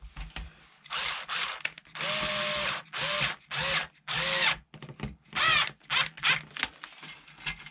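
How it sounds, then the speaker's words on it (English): A power drill whirs in repeated short bursts while working on a vintage Tyrrell P34 model, revving up and cutting off again and again, close and fairly loud, with no one talking. "you finish with the drill"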